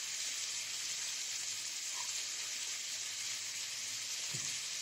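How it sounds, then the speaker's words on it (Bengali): Kundri (ivy gourd) with poppy seed paste, salt and a little sugar sautés in a pan with an even, continuous hiss, a soft knock near the end, and no talking. "এবার কষিয়ে নিচ্ছি আবার খানিকক্ষণ।"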